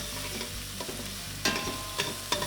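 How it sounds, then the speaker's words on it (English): Onions sautéing in a pan, a constant close sizzle broken by three sharp stirring scrapes spaced about half a second apart. "we saute these until we get to a nice golden brown"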